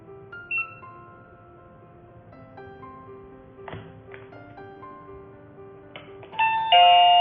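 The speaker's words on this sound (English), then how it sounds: "Press the doorbell. The pop-up window of the mobile phone." A Tuya video intercom doorbell on an apartment intercom system rings with a sequence of melodic electronic chime tones, joined by a few taps and clicks and ending in a louder, brighter ringtone.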